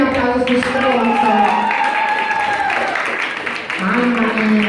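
Live-show audience applause in a former municipal library at Santarcangelo di Romagna, a steady wash of clapping that runs the whole time, mixed with voices and talk.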